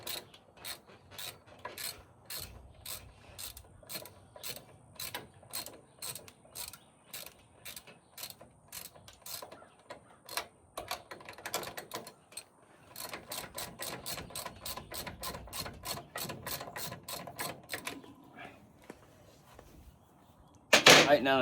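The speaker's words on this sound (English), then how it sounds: "Get the shock in, tighten it down." A ratchet wrench clicks in rapid, even bursts while a shock absorber bolt is tightened on a Chevy 2500 HD front end, with brief pauses between runs and a louder clatter at the end.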